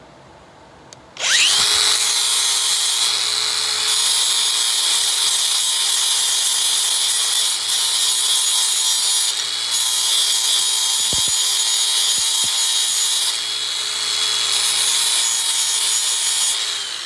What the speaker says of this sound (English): See, flap wheel does nicely.